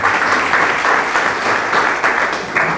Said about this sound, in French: On l'applaudit encore très fort, s'il vous plaît.